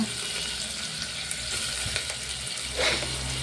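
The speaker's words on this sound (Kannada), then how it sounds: "ಟೊಮೊಟೊ ಸ್ವಲ್ಪ ಫ್ರೈ ಆಗಬೇಕು" Tomatoes fry in a pan for a masala, a loud, continuous close sizzle and crackle with a brief swell of stirring near the end.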